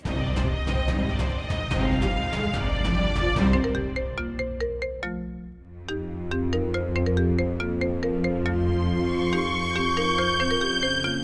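A loud electronic phone ringtone plays a bright melodic pattern, pausing briefly midway before the tune resumes and repeats.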